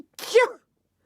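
A single loud, close sneeze, a sharp burst lasting about half a second, with no talk around it.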